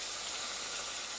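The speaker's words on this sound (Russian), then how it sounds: "Рыба, ребята, шкварчит." Fish sizzles in a frying pan in a village home kitchen, giving a steady, close, even hiss with no voices.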